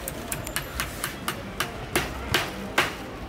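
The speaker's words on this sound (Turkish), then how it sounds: "Son çivimizi çaktık." Hammer blows driving the last nail into a homemade pet cage, about a dozen sharp knocks in an uneven rhythm that grow louder toward the end, close by with no talk.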